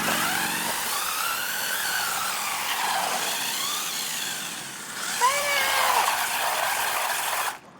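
A WLtoys A959 RC car, rebuilt with upgraded all-metal gears, races about at high speed, its whining electric motor and gear noise holding a steady pitch, then rising and falling as it speeds past before cutting off abruptly.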